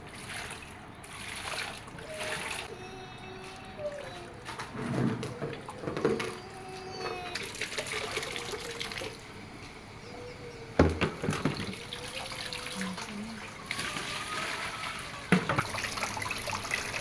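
Water from a kitchen tap splashing while bitterleaf is washed in a sink, with running flow, intermittent sloshes and sharper splashes over about seventeen seconds, close and fairly quiet.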